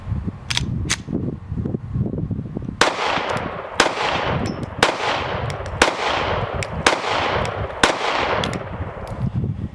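A Caracal Enhanced F pistol fired at a range, two early shots followed by a steady series of about seven loud, crisp reports spaced roughly a second apart, each ringing out with a decaying echo.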